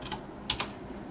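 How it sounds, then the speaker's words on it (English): A few quick keystrokes on a computer keyboard, three soft clicks within about a second, close and quiet against a faint room hiss. "So we can just type into here"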